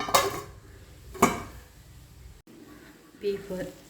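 Clattering of a spoon stirring beef roast in a cooking pot, two sharp metallic knocks early on, then a lid set down with a softer clink near the end, with someone speaking throughout.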